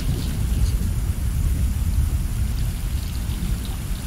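In the video game Stray, rain falls steadily in a game city under a low, continuous rumble of thunder, a dense and even wash with no talk.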